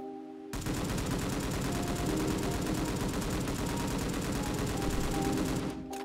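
M249 machine gun firing in a video game, a sustained rapid burst of automatic fire lasting several seconds, loud and continuous, with no talking.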